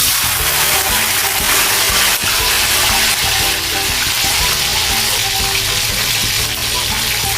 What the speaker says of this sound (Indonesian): Kita goreng dulu bawang untuk mendapatkan aroma bawangnya itu agak lebih harum ya.